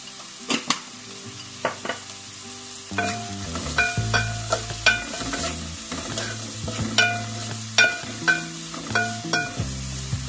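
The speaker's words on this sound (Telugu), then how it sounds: "గోల్డ్ కలర్ వచ్చే వరకు ఫ్రై చేసుకున్నామండి ఉల్లిపాయని." Onions frying in a pan until golden, with a steady sizzle broken by repeated scraping and stirring strokes from a spatula, close and fairly loud, no voices.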